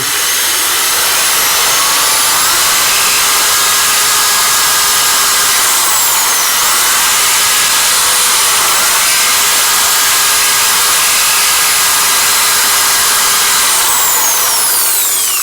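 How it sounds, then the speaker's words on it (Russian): Compressed air blows through a disassembled Inter 9800 bicycle hub, making a loud, steady hiss that runs unbroken for about fifteen seconds. "Воздухом выдуваю."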